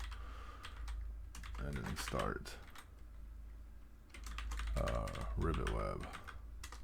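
Typing on a computer keyboard during a programming session, bursts of rapid key clicks close by, alternating with someone speaking over them.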